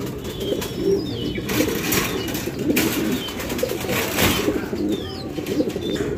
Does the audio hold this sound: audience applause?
no